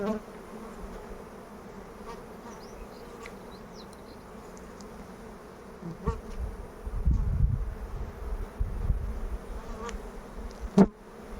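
Honeybees hum steadily around an opened hive frame in a queenless colony that has cut its queen and built queen cells, a sustained close buzz with low handling bumps and thuds toward the end.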